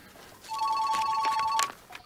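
A telephone bell rings in a rapid trilling burst, fairly close and loud, then cuts off abruptly.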